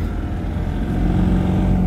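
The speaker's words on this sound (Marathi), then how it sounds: "ट्रॅफिक बघा मित्रांनो किती आहे." Evening road traffic at a busy signalled junction, Pathardi Phata, with a steady close rumble of car and motorbike engines that swells slightly toward the end, no talking.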